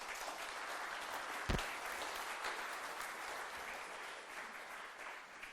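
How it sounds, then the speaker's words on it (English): An audience at a programming conference applauds a speaker with steady, moderately distant clapping. A single low thump stands out near the start. "So please, a warm applause for Jim."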